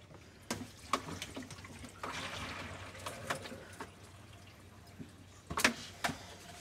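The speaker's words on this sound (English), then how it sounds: "Lots of water noises." Water drips, splashes and gurgles from a second-hand aquarium canister filter being set up, scattered irregular drops and trickles at close range, fairly faint.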